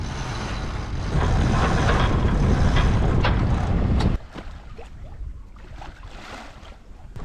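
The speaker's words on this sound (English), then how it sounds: "the regular northerlies began blowing, and we decided to lift the sails and make the most of it." Sailboat under sail in a northerly wind, with a steady loud rush of wind and water that drops abruptly to a quieter wash and hull sounds partway through, no voices.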